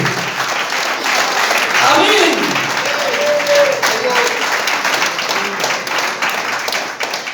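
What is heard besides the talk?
church congregation applauding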